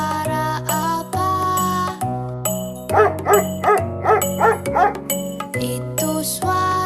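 A dog barks in a quick run of several yaps over a bright, bouncy music track with chiming notes.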